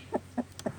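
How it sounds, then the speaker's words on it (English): A broody hen in her nest gives three short, throaty clucks spaced evenly apart, close and moderately loud, with no talking over them. "Oh yes, that's definitely broody chook sounds."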